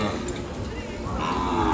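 An Ongole calf moos at the Kodada cattle market, its low call rising out of dense crowd noise, with voices talking nearby throughout.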